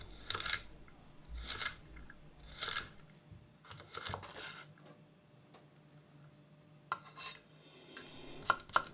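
A chef's knife cuts carrot, first halved and cut into batonnets, down into fine brunoise on a cutting board: sharp, close chopping taps in short irregular bursts with quiet gaps between, no voices.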